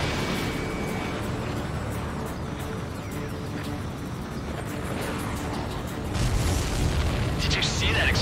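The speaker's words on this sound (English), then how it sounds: "Did you see that explosion?" Missile explosion in the Ace Combat 7 flight game, a broad rumbling boom that swells louder near the end over a steady engine-like roar and game sound, with a voice heard talking faintly.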